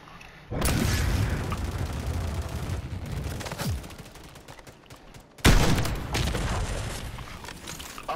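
Intense gunfire and explosive booms in a Call of Duty match, a sustained loud barrage that fades slightly, then a sharp heavy blast near the end followed by continued rumbling fire.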